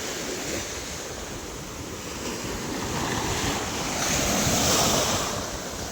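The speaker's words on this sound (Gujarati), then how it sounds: "અને આ મોજા આવે." Ocean surf rolls up the beach in a continuous roar that swells louder toward the end as a larger wave breaks close by, with wind rumbling across the microphone and no talking.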